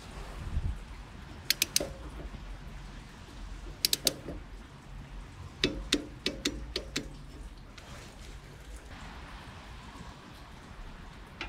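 A ratchet tightens a subframe bolt on an MG TF to 30 Nm, giving several short bursts of sharp metallic clicks separated by pauses, close up over a quiet workshop background.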